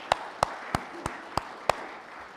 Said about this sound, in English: let us give Mr. Robert Celestial a round of applause